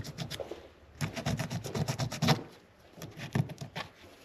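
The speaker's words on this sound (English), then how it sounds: "Get all the hard stuff off of your piston." Hard carbon deposits are scraped off a piston from a 1940 Plymouth Deluxe engine, giving a rapid run of short, raspy strokes in bursts with brief pauses, close and fairly quiet.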